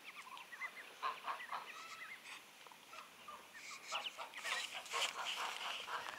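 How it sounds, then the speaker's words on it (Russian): Newly arrived farm geese and ducks call from the yard in a steady, overlapping chatter of honks and quacks, moderately near, with no talk. "Гусей 7 штук привезли. И уток."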